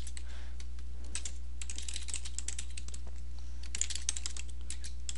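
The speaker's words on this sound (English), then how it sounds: "So I type in my clue and click add to list." Fingers tapping out a word clue on a computer keyboard, a quick run of light clicky keystrokes in bursts with brief pauses, close and alone over a steady low electrical hum.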